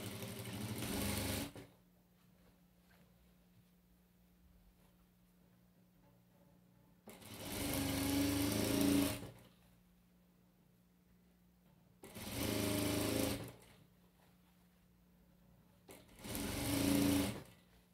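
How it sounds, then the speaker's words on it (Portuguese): A sewing machine stitches a crib bumper in four separate bursts of steady whirring, each lasting a couple of seconds, with quiet pauses between them; close and clear, no voices. "Tá dando pra mim ver e tá dando pra ver eu costurando."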